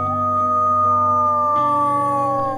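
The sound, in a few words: wolves howling at a wildlife sanctuary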